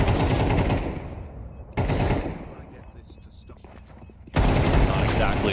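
Rapid bursts of pistol and SMG gunfire from Counter-Strike 2 during a PGL Copenhagen 2024 Major esports match, dense volleys in three sections split by sharp jumps in loudness, with caster commentary partly audible.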